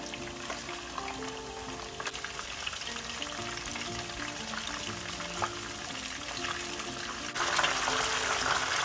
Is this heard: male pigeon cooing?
no